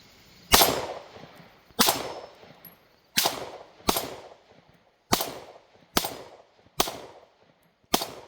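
Sig Sauer M18 XCompact pistol with its slide being racked over and over, eight sharp metallic snaps at a steady rhythm, each loud, close and ringing briefly before the next.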